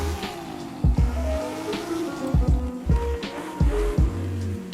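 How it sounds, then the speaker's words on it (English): Car engine preview in the video game Forza Horizon 5, with repeated revving bursts that climb and drop in pitch several times over a steady idle, loud and upfront with no talking. "You basically get the preview what the engine sounds like"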